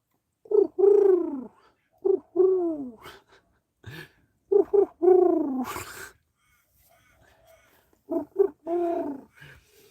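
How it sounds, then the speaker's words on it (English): Doves cooing close by, repeated soft rounded coos in short phrases separated by quiet gaps, clear and alone with no talk. "And my doves are here."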